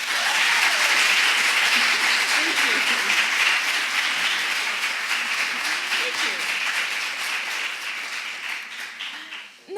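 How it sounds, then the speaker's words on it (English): Sustained audience applause welcoming an author onstage at a university talk, steady dense clapping filling nearly ten seconds before fading, with a brief spoken thanks at the very end. "with a round of applause"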